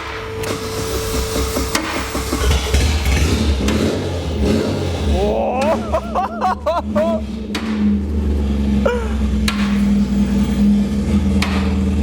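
A trash car's engine cranking and firing up with a custom exhaust and no muffler, loud, rough and rumbling with revving surges, while people talk over it and some knocking is heard.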